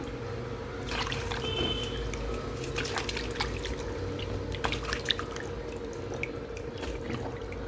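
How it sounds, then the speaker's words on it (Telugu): Water drips and trickles from a tap while lentils and rice are rinsed in a kitchen, a steady run of small splashes and droplets, moderately close and fairly quiet, with no talking. "ఇప్పుడు శుభ్రంగా కడుక్కుంటాను వీటిని."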